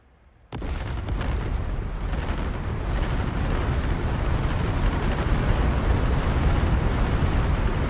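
Unguided bombs dropped from an A-10C in the DCS flight simulator detonate in a sudden loud blast after near silence, then a long, dense roaring rumble keeps building, with no one speaking.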